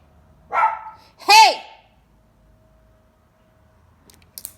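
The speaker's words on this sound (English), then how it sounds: "If you can't go outside and stop barking, you stay inside." Two sharp dog barks close by, about a second apart, followed by quiet with a faint rustle near the end.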